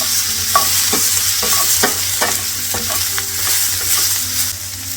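Sliced hotdogs fry with onions in a pan for a hotdog curry, giving a loud, close sizzle with brisk stirring and scraping strokes and no talking.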